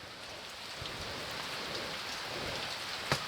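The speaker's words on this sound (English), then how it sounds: "I was trying, or hoping, I guess, that the rain was going to slow down" Rain falls steadily and softly outdoors beside a Masterbuilt electric smoker, a constant even hiss with one brief sharp tap near the end.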